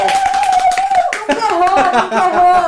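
Clapping from a virtual audience on a Brazilian online talk show, a steady patter of many hands close up, with a host's voice running over it and briefly dipping midway.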